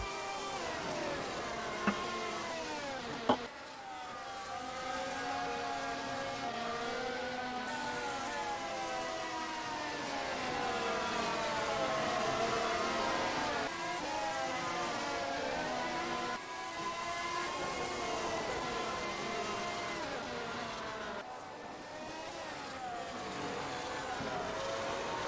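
Racing cars in a racing video game run down a straight, engines whining and rising in pitch as they pass and overtake one another, with a steady layered drone of several cars throughout.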